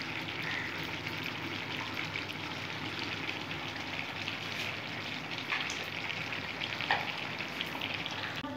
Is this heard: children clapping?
no